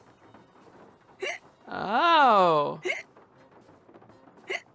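A cartoonish hiccup sound effect from hiccup powder in a puzzle adventure video game: one loud, wobbling, squeaky hic lasting about a second, framed by short voiced hiccup gasps before and after, with a brief spoken exclamation.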